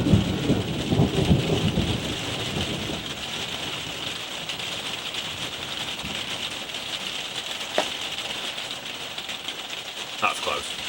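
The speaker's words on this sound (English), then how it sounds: "between each thunder flash, each lightning flash and then the thunder, that's how many miles away it is" A thunderstorm brings steady heavy rain and rumbling thunder, with a few sharp cracks later on, while people talk over the downpour.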